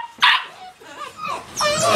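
Dogs kept at a Detroit dog-fighting yard bark in two loud, close bursts, with a whimpering yip between them and a rougher, sustained bark toward the end.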